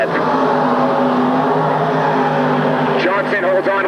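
Stock car racing with small-block engines on an oval track in 1994, the Countryside Oil car among them: a loud, continuous engine drone with steady harmonic tones, and an announcer's commentary running over it.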